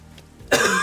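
A single harsh cough or throat clear bursts out abruptly after a quiet moment, close and fairly loud, with no speech around it.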